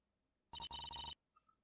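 A phone rings in the Gyakuten Live video game: a short electronic ringtone burst of repeated rapid trills lasting about half a second, loud and clear with no talk over it, followed by faint game sounds.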